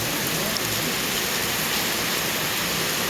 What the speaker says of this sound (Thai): ดีใจเลยพี่น้องฝนตกมา